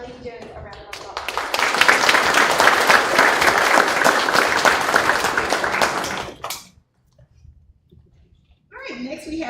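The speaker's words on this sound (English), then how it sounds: "So please give Charlie Jones a round of applause." A crowd at a school board meeting claps in a burst of applause for several seconds, then it fades to near silence before voices begin.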